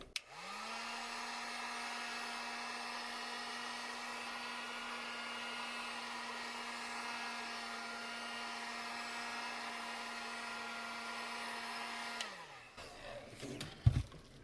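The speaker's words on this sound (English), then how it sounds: "I'm going to take my heat gun" A handheld heat gun warming cut shoulder pieces before they are shaped and glued with contact cement for a costume build, a steady loud blowing whine running unbroken for about twelve seconds, then cutting off and winding down, followed by a few light handling knocks.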